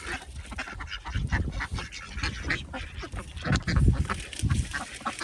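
Ducks quack and honk repeatedly in a busy, chaotic cluster while gobbling cat food at a garden feeding spot, close and loud, with sparrows around.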